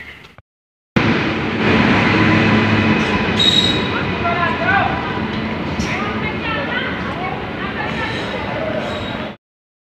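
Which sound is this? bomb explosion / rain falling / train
train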